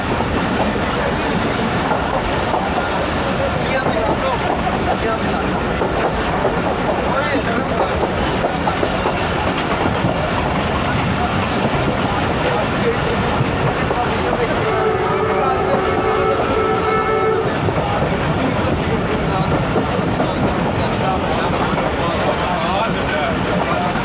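The 14DN Awam Express running on rails near Shahdara Bagh junction outside Lahore, heard from inside as a loud, constant rumble and rattling clatter, with a brief steady hum rising partway through.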